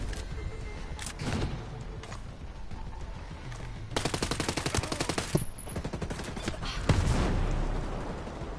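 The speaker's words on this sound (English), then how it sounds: "Damn sniper found me." Gunfire in Ghost Recon Breakpoint, with a run of rapid, evenly spaced shots in the middle and a few heavier single reports later. Sniper fire is mixed in, and the shooting comes at moderate loudness with no talking.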